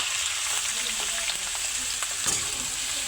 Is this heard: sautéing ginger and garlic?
yes